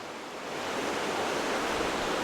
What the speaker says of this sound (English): I don't know how well you can hear the river, but it's pretty loud here